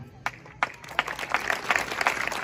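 An audience claps at a Hindi kavi sammelan, a lively poetry gathering, with scattered then quickening handclaps building into steady applause, heard close over a faint room murmur.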